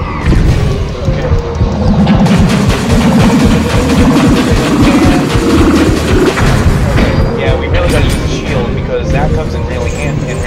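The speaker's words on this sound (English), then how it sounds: "we've got to actually avoid all of his glass shard attacks" Glass shard attacks smash and crash repeatedly in the PS1 game MediEvil, loud percussive impacts and booms layered over game music, continuing densely throughout with a voice talking underneath.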